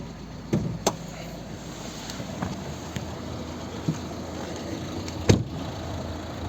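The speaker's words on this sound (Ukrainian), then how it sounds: "скажу так, робота двигуна ідеальна" A 2011 Volvo V50 with a 1.6 diesel engine and manual gearbox idles steadily with a low, even rumble, with a few soft clicks and knocks nearby and no talk.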